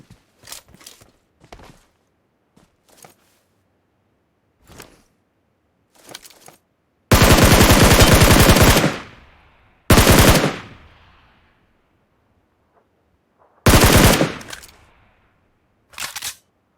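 PUBG Mobile gunfire, heard as three long, loud bursts of automatic fire separated by scattered shorter shots and pauses, with no talk over it.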